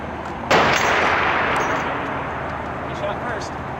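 A single loud gunshot rings out after a half second of quiet, its sharp blast tailing into a long fading echo with metallic ringing, while voices murmur faintly in the background.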